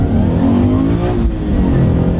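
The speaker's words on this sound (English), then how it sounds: "we're gonna do a first gear pull here. Open road. Let's open it up" A supercharged Subaru BRZ accelerating hard in first gear on an open road, the engine note loud and rising with a strong blower whine, heard from close range without any talk.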